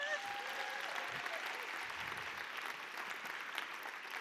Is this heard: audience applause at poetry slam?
yes